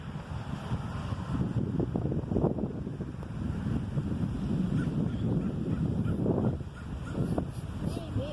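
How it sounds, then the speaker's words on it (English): Ducks honk and quack nearby at Mission Beach, San Diego, by the ocean, over gusty wind noise outdoors, with voices talking intermittently underneath. "Nó kêu quack quack quack quack quack quack."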